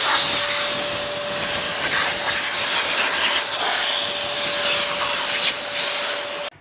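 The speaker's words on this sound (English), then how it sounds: "Here's the little air compressor." A small portable air compressor running continuously, a loud close broadband hiss with a steady high whine on top, holding level for several seconds before cutting off abruptly.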